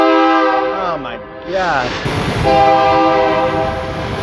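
Train horns blare in loud sustained blasts with bending, overlapping tones, sounding near, while someone speaks briefly under them.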